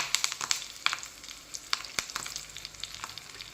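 A tempering of curry leaves, dried red chillies and coriander frying in oil in a pan, close bright crackling and spitting pops over a steady sizzle, with sharp bursts scattered throughout.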